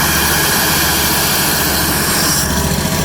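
A Vac-Tron vacuum trailer roars at idle, a dense, loud, continuous rushing drone with a steady engine hum underneath and no speech.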